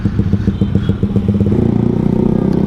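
A Beat scooter with an aftermarket exhaust revs loudly and throatily, choppy pulsing bursts first, then settling into a fast, steady rattling drone.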